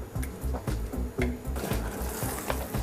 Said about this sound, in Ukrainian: Далі ми розігріваємо нашу горгонзолу з вершками шпинатом та цибулею порей